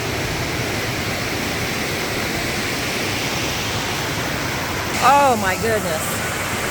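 A loud waterfall at Mount Hood roars as a steady broadband wash throughout, and near the end a person exclaims over the rush of water.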